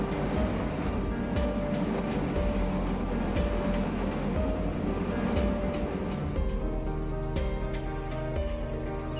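Electric commuter trains rumble along the tracks between Depok and Citayam stations in Train Simulator, with a steady, low mechanical drone and faint rhythmic clatter, heard without any voices.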